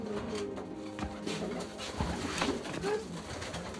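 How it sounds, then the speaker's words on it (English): Carrier pigeons coo softly in a loft in the Ruhr Valley, with several low, rolling calls overlapping at moderate distance against faint background noise. "breeders of carrier pigeons in the Ruhr Valley"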